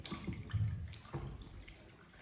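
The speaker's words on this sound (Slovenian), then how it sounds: "in enostavno speremo z vodo" Water running over a stained garment as it is rinsed after a spray of dish detergent, a soft close splashing and trickling wash that stays low and steady throughout.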